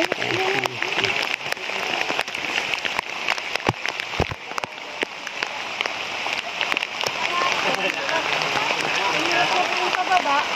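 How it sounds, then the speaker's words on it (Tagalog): Heavy rain pours down steadily, a dense, loud hiss of drops beating on a surface that lasts the whole time, with occasional thuds and faint voices mixed in. "Lakas na ng ulan, tara na."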